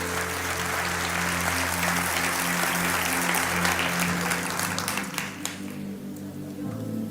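An audience in a church breaks into sustained applause, loud and continuous, thinning slightly toward the end, with no talk over the clapping.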